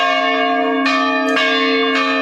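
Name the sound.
church bells ringing at historic church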